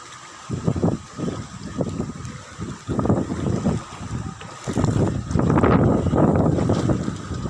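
Strong wind roars and buffets the microphone in gusts, rising louder toward the end, with no voices.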